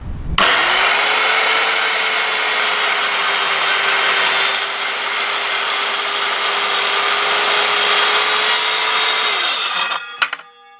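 An Evolution R185CCSL circular saw set to a 45-degree bevel cuts through wood in one long, loud, steady whine of roughly nine seconds, starting abruptly and winding down at the end, with no voices.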